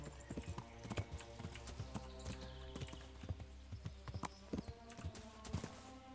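Horse hooves clip-clop in a steady, brisk rhythm, close and clear over a low game-like musical backdrop.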